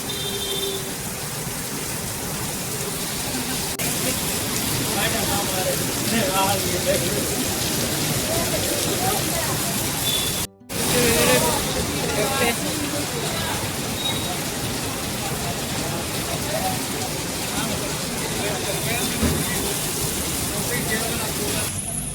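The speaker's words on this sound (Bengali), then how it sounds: "বৃষ্টি কিরকম রেসে রেসে আছে, যাওয়ার মানে কোনো রাস্তাই নাই, এত জোরে জোরে বৃষ্টি দেয়" Dense, steady hiss of heavy rain pouring close by while shopping, continuous throughout with a brief cut midway, faint crowd murmur beneath.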